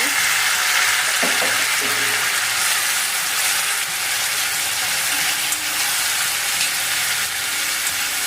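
Crushed garlic and a large tomato fry in a pan for a dry drumstick vegetable dish, giving a loud, steady, close sizzle with a few stirring scrapes near the start and no audible talking.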